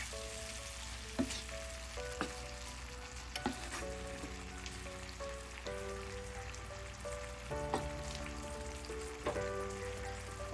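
Jackfruit and tomato stirred together in a hot pan while cooking a yogurt jackfruit curry, oil sizzling steadily with repeated scraping and stirring clatters of a utensil against the pan, no talk.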